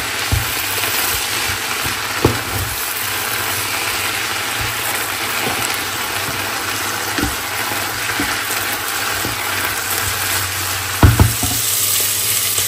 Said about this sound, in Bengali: এখন এভাবে ভাজি করে ফেলি